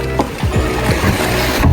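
A safari boat on the water at Gal Oya carries a steady, loud wash of engine and water noise, with a few low knocks and creaks underneath and no speech.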